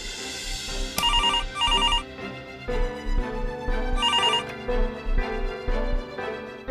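A telephone rings in repeated bursts of bright electronic trills, loud and close, with a steady music bed running underneath.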